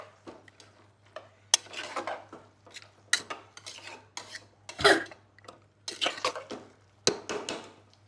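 A spoon stirs coriander powder and soaked dried peas in a pan for Kolkata-style ghugni, giving repeated scraping, rubbing strokes in irregular bursts close by, with no talk.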